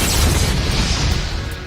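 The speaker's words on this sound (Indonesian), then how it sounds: "sepatu itu meledak seperti bom" A shoe blows up like a bomb inside a frozen ice mountain: a loud, sustained boom with a broad rumbling roar that fills the whole moment and slowly tails off.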